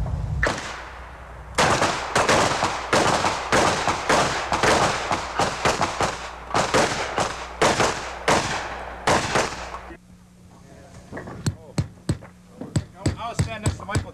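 Pistol gunfire at a 1986 Second Chance combat shooting match: loud, rapid, overlapping shots from several shooters firing together crack out for about eight seconds, then stop, leaving quieter scattered sounds with some talk nearby.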